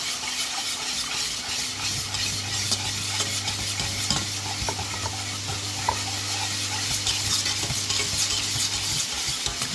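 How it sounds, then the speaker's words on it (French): A lasagne roulade mixture whisked in a bowl, giving a steady, close, rapid scraping and swishing that runs unbroken for several seconds, with a low hum underneath and no voices. "Alors je vais prendre un fouet, ça va être mieux."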